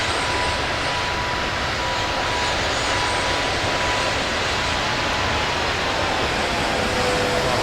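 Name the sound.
airplane engine flying over New York in video game Flight Simulator 2024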